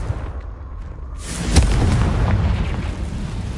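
Confringo blasting curse detonating in Hogwarts Legacy, a loud, deep boom bursting out after a short lull and rumbling on as it fades.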